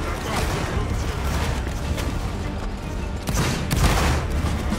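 Musket volley fire in the Roblox Napoleonic Wars game, a dense continuous crackle of many overlapping shots with a louder surge near the end, heavy and close.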